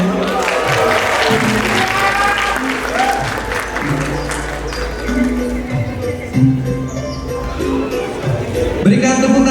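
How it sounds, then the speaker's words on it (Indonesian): Dense, sustained applause from an audience at a Balinese dance performance, continuous throughout and mixed with a speaking voice and other crowd noise. "Berikan tepuk tangan yang meriah untuk Ibu Putu Merina Rahayu"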